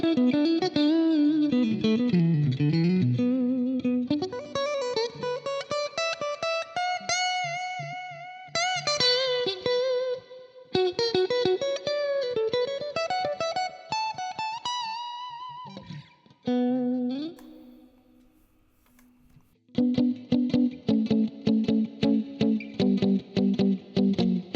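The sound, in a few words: Yamaha Pacifica electric guitar played through effects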